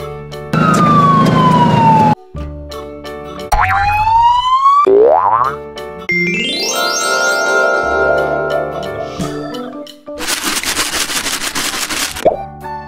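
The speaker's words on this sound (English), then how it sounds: "Ambulance." Cartoon sound effects from a kids' vehicle animation: springy boings and plops, then a rising and falling ambulance-style siren wail, ending with a burst of noisy clatter; loud and close, no talking.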